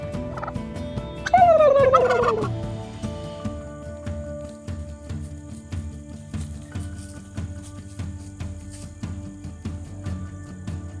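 A turkey gobbles loudly in a quick rattling burst, with other birds and farmyard background noise continuing steadily afterward.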